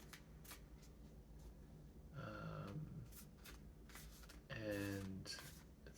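A deck of cards is shuffled in two distinct quiet bursts of riffling flutter, close by, separated by a soft pause.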